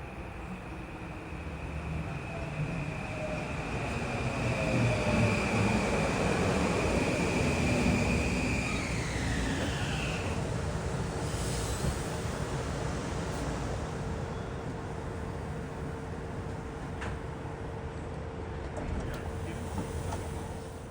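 A Shore Line East passenger train, number 3629, rolls into a Connecticut station, its rumble building and holding steady over about twenty seconds, with a long horn-like tone that bends downward partway through.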